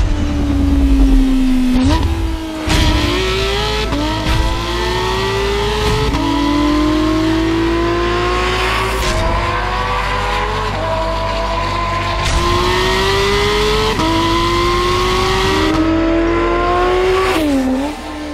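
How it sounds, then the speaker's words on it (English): A Porsche 911 GT3 of the 991 generation accelerates hard on a test road, its engine climbing through the revs in repeated rising sweeps with sharp drops at each gearshift, loud and close throughout. "we're going to put the GT3 through its paces on our local test route"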